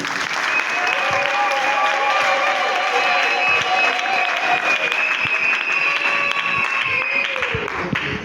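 Sustained applause from an audience at a diploma award ceremony, steady and dense throughout with crowd noise and faint voices mixed in.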